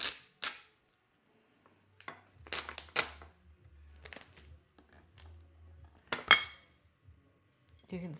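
A white backing sheet is peeled off a 3D texture sticker in sharp crinkly bursts separated by quiet gaps, with a faint low hum under some of them.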